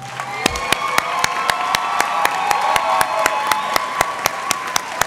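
A crowd at a graduation celebration applauds and cheers for the standing graduates. Sustained clapping runs with scattered whoops, and a sharp periodic ticking cuts through the whole stretch.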